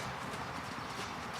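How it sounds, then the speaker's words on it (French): A horse canters during a riding lesson, its hooves striking the ground in a steady, muffled beat over a wide, noisy background, with no talk heard. "Allez, galop, occupe-le"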